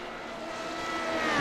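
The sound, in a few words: Formula Renault 3.5 race cars at Spa-Francorchamps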